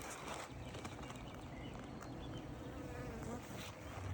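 Honeybees swarm around an open beehive during a hive check, producing a steady, dense, faint buzzing that continues throughout without pause, with no talk.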